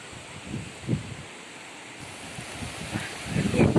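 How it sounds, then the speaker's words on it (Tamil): Wind gusts buffet the microphone in low, uneven rumbles, with a broad rushing noise throughout and a stronger gust near the end. "இப்போ பாருங்கள் காற்று எப்படி அடிக்குது பாருங்கள்"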